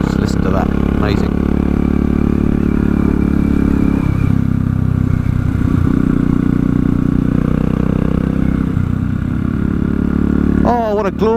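A chrome Royal Enfield Classic 500 motorcycle rides through the English countryside, its engine a steady, loud, close thumping drone with shifts in load, wind rumble throughout and a voice briefly at the end.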